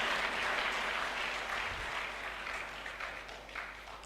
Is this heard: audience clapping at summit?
yes